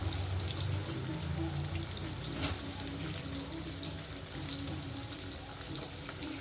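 Onion pakoda frying in hot oil gives off a steady, dense sizzle and bubbling hiss that runs evenly throughout, close and continuous with no voices.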